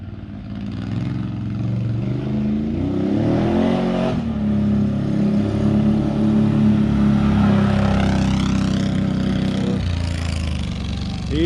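Car fitted with an RJWC Krossflow exhaust drives past, its engine note swelling loud and rough as it approaches, sweeping in pitch as it revs and passes close by, then continuing strongly without talk.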